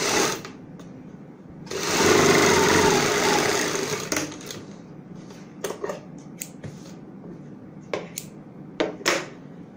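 A sewing machine runs a short burst of about two seconds stitching the centre seam of a boat neck blouse, followed by scattered clicks and fabric handling.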